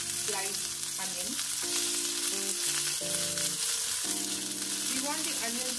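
One medium sliced onion fries in hot oil, giving a steady close sizzle and crackle while melodic background music plays over it.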